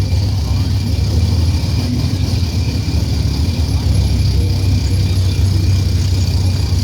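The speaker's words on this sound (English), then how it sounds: "But now Sack's backing up, so we'll help him back up here." A drag race car reverses slowly, its engine idling as a loud, steady low rumble that persists without letup, with outdoor noise around it.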